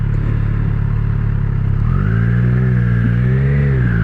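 A motorcycle ridden through New York City traffic: close, loud engine droning steadily, then revving up into a rising, slightly wavering whine as it accelerates, with no talking.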